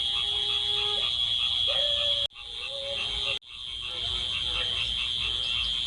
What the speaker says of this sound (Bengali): ব্যাঙের ডাকগুলো শুনুন।